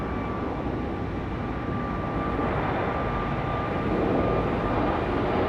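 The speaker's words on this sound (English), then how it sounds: "I always love the Delta A220's departures" A Delta Airbus A220 jet departs Raleigh-Durham International, a broad, steady roar that grows slightly louder toward the end, heard from a distance without any voices.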